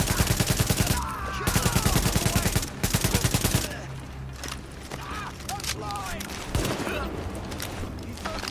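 Automatic gunfire in The Division shooter game comes in rapid, rhythmic bursts close by, then gives way to scattered shots and game noise while a voice talks.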